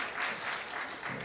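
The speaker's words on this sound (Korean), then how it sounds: "하나님께 영광의 박수 올려드립시다." A church congregation claps together in steady applause during a midweek prayer service, a dense, even wash of many hands filling the room for about a second.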